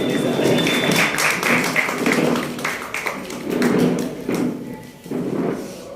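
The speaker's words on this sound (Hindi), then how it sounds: "मैम के लिए तालियां।" An audience applauds a guest at the formation ceremony of the Pratapgarh branch of a science council, with a dense burst of clapping swelling and fading in waves over several seconds.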